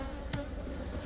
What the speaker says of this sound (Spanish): Ahora hay mucha abeja